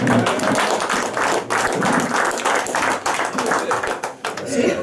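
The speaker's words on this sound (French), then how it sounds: "Et on applaudit." An audience at an amateur radio club's annual general meeting applauds, a dense, continuous patter of clapping that stays loud and close throughout, with some voices mixed in.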